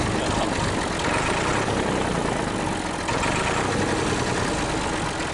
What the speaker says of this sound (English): I'm going to put the tractor away now.